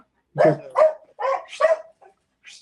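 A dog inside a motorcycle workshop lets out four quick barks in a row, followed by a faint yip, moderately loud and clear against a quiet background.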